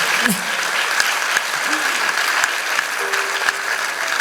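Theatre audience at a concert of light Greek song gives a big, sustained round of applause, loud dense clapping throughout, with a brief voice and a held tone faintly surfacing beneath it.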